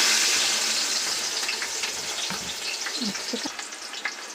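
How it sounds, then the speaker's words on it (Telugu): Onion pieces added to hot oil with fried cloves for chicken biryani: a loud broad sizzle that settles into a steady fry, with a few soft stirring clinks and bubbling spits toward the end. "ఉల్లిపాయ ముక్కలు కూడా యాడ్ చేసుకుందాం"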